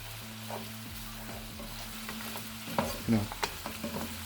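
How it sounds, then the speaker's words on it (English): Lamb pieces fry in ghee and masala in a kadai, a steady close sizzle broken by a few sharp scrapes and clinks as a spoon stirs the meat against the pan, with no talk. "Let the lamb get coated with it and the ghee and the fat get flavored with the masala."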